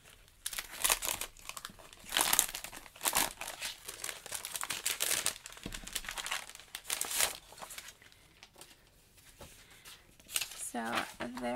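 Collage paper crinkles and rustles as hands rummage through a small bag for art journaling, with bursts of crumpling and handling noise throughout and someone talking over it at times.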